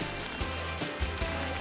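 Brief stretch of close, bubbling sizzle from a simmering kimchi stew with saury and aged kimchi, with soft low gurgles pulsing a few times.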